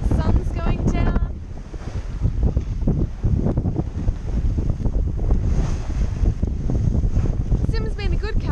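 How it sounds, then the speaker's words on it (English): Wind buffets the microphone as a sailboat pushes through the sea, with waves breaking over the bowsprit and water rushing continuously; voices briefly talk at the start and end. "We keep getting waves over the bowsprit, which is fun."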